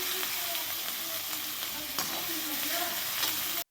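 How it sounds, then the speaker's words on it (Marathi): Chopped onion sizzles and fries steadily in a hot pan, a dense continuous crackle with faint stirring scrapes, close and moderately loud. "कांदा चांगला लाल होईपर्यंत भाजून घ्यायचा आहे आपल्याला"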